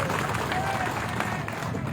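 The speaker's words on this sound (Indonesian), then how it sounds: "Tepuk tangan untuk mereka berdua." Audience applause for two candidates at an outdoor political rally in Kanatang, a steady dense wash of clapping with crowd noise and voices mixed in throughout.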